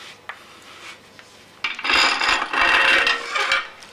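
A deburring tool scrapes and rasps inside a mountain bike frame's head tube, clearing burrs and paint residue; faint taps give way to loud, sustained grinding strokes close by.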